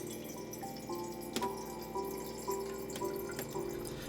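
Water from a dispenser runs steadily into a reusable smart water bottle, a continuous close trickle and pour with faint clicks and knocks over about four seconds.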